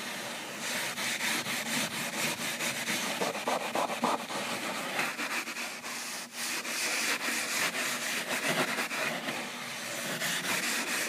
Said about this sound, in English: It's not easy stripping wood of any kind.